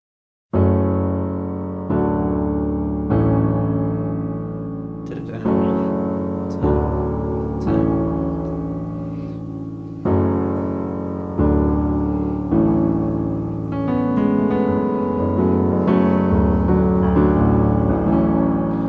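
Sustained piano chords played one after another at a slow, even pace, each ringing out before the next, with no voices.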